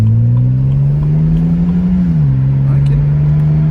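A BMW N52 3.0L inline six with a K&N air filter pulls hard under acceleration, a loud steady engine drone heard from the cabin whose pitch rises, dips briefly at a shift and climbs again.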